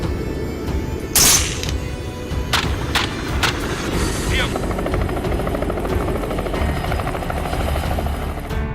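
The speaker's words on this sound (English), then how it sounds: "the pilot expertly navigates the helicopter to flush wild pigs from dense cover" Helicopter flying overhead during a hunt to flush wild pigs from dense cover, a steady rotor drone throughout with a few sharp transient cracks and swishes near the start.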